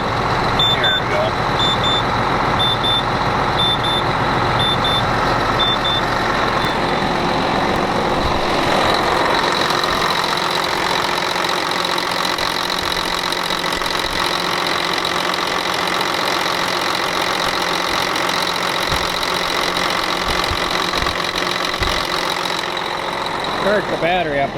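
A Volvo semi truck from around 2000 idles steadily on an older cold start, a continuous diesel drone with rattling knock and high whine throughout, nearby and loud, with someone talking over it.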